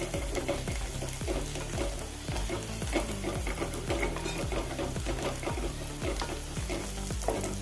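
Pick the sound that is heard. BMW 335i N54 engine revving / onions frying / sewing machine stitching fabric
onions frying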